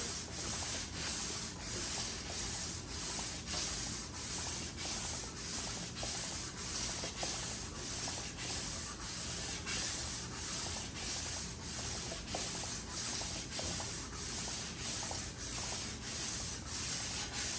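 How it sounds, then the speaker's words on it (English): Hand sanding of a cylinder head with 600 grit sandpaper under light, even pressure: a steady rhythmic rasp of back-and-forth strokes, close and continuous, with no talking. "I don't want this piece of sandpaper to tear again because this is my last large 600 grit sandpaper."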